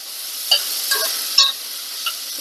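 Onion sautés in a pan with a steady high hiss, punctuated by four brief spoon scrapes and taps spaced about half a second apart.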